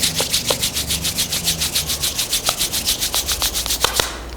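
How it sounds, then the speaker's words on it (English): Palms rubbed briskly together, a fast even rhythm of about five dry swishing strokes per second, close and clear, continuing for several seconds before stopping. "Rub your palm."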